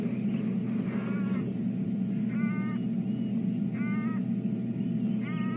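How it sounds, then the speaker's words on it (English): A black-collared barbet calls repeatedly at a distance during a sunrise safari drive, four short rhythmic bursts of notes spaced about a second apart over a steady low vehicle rumble. "Bird we can hear in the background is one of the black-collared barbets."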